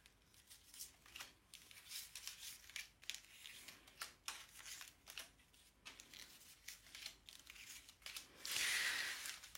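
Tarot cards are shuffled and laid out for a nine-card spread, giving soft, close papery riffles, slides and taps in an irregular rhythm, fairly quiet, ending with a brief louder rustle.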